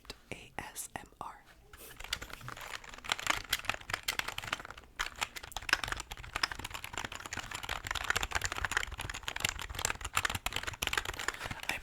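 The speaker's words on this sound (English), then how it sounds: "I personally really like the way this keyboard sounds." Typing on a computer keyboard in an ASMR setting, a steady stream of close, crisp key clicks continuing throughout, with some soft whispering at the start.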